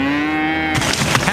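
A cow moos once in a long, drawn-out low call, loud and close, followed by a burst of rough broadband noise.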